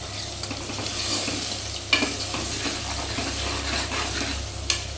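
Ginger fries in a pan with a dense, close, steady sizzle. Occasional stirring scrapes and a couple of sharp utensil knocks break through. No one speaks.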